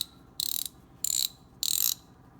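An SK hand ratchet from a tool shop gives three rapid bursts of crisp, buzzing clicks, close and distinct, separated by short pauses.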